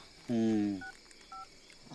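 Two short telephone keypad tones beep in sequence, faint and evenly spaced, just after a brief voice-like sound.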